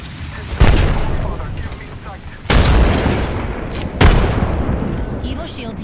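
Thermite grenade explosions in the Apex Legends video game: three loud booming blasts roughly 1.5 seconds apart, each followed by a crackling, fiery roar that slowly fades, with speech in the background.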